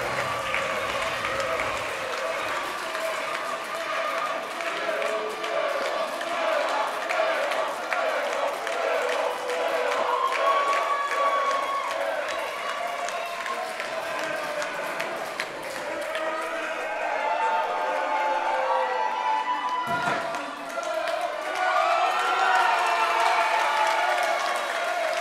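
At a live wrestling show, the crowd gives Léon sustained applause and clapping that swells and dips, with a commentator talking over it.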